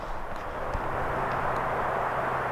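An airplane passing over a golf course gives a steady, broad distant roar that holds evenly for a few seconds, alone with no talking.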